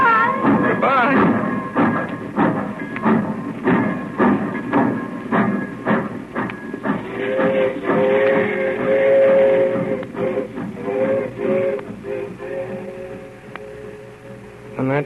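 Train pulling away from a station in an old radio drama, a busy rhythmic chugging with repeated thumps, joined midway by sustained whistle-like tones, all close and loud with possible voices mixed in.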